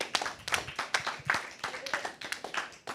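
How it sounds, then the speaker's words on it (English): Brief clapping at an online assembly session marking a return from a break, sparse and uneven hand claps from a handful of participants, close and moderately loud, with no voices over them. "Round of applause for returning on time."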